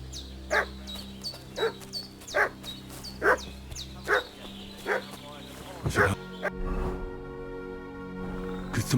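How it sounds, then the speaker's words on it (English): Dog in Kingdom Come Deliverance 2 barking repeatedly in a steady run of sharp, evenly spaced barks under game ambience and background music; a voice speaks near the end. "What's that dog making such a fuss about?"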